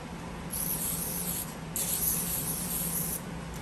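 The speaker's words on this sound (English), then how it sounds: "now we're gonna spray our pans with some vegetable oil" Two bursts of vegetable oil aerosol spray hiss onto baking pans, each lasting over a second, close to the mic with a short pause between them and a quieter tail at the end.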